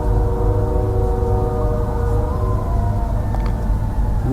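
A pack of coyotes keeps up long, siren-like howls at night, several drawn-out wavering voices overlapping at a distance above a constant low rumble.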